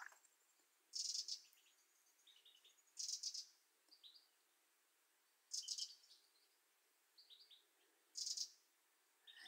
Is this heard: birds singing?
yes